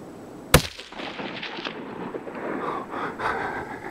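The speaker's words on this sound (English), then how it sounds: "Good shot, dear boy." A single sharp rifle shot rings out close by while hunting nanny tahr outdoors, followed by a fading echo and low background ambience.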